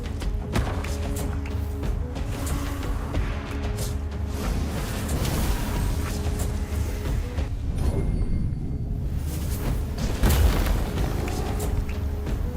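In Tainted Grail: Fall of Avalon, an explosion goes off as a deep, loud, continuous rumbling boom lasting several seconds, with crackling debris and scattered impacts layered over it and no speech.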